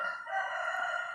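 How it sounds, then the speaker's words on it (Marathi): A distant domestic rooster on a farm beside forest crows faintly, its drawn-out call carrying over a soft background hiss with no voices. "आपला निजाम देखील आरवत आहे."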